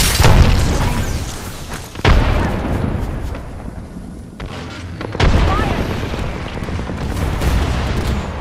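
Frag grenade and weapon blasts in the video game Apex Legends, with loud, close booms at the start and again around two and five seconds, each followed by rumbling, debris-filled noise.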